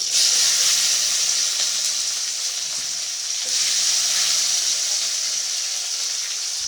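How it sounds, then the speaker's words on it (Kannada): Chopped tomato and curry leaves fry in a hot pan with a steady, close sizzling hiss that swells slightly midway, with no voices. "ಸ್ವಲ್ಪ ಫ್ರೈ ಮಾಡ್ಕೊಳ್ಳೋಣ."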